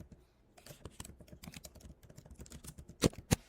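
Rapid typing on a computer keyboard during Figma design work: close, irregular clicks in quick bursts, ending with two sharper, louder keystrokes.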